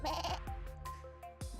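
Sheep bleat in the video game Punishing: Gray Raven, with several short wavering cries layered over a soft sustained musical drone, close and clear.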